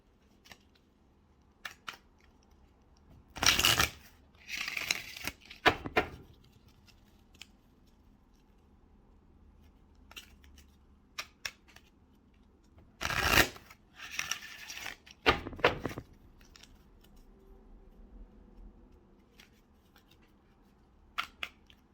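Several bursts of cards being shuffled and riffled, crisp rustling flurries separated by quiet pauses and small handling clicks.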